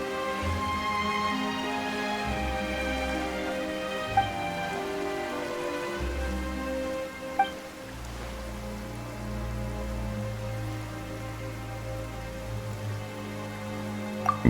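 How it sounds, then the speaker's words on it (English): Steady rainfall in the video game Genshin Impact patters over sustained low musical tones, with a few sharp isolated clicks, no voices. "Why is it raining all of a sudden?"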